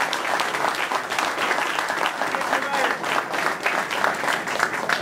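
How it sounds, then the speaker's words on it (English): Audience applause fills the room at a post-fight press conference after the Juan Diaz vs Paulie Malignaggi boxing match. It is a dense, steady round of clapping with voices mixed in throughout. "Y'all give him a good round of applause."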